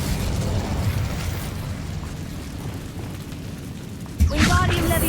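In Hogwarts Legacy, the Incendio fire spell erupts as a sudden loud fiery burst near the end, over a steady rumbling game ambience.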